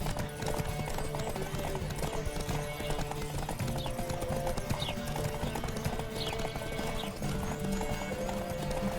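Horse hooves clip-clop rapidly in a steady galloping rhythm during a horse race in The Witcher 3, with occasional neighs over continuous game background sound.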